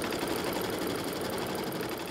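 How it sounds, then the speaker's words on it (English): An embroidery machine stitches a design on fabric in a hoop, a steady, rapid mechanical chatter of the needle running continuously at moderate volume with no pauses or talk. "Embroider the design."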